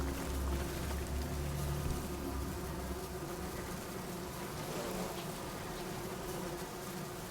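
Hive courser bees from the game Sunless Skies drone in a steady, dense buzz, with a loud low hum over the first seconds that then settles into a continuous swarm sound with no talking.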